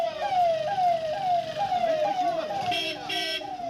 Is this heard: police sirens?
yes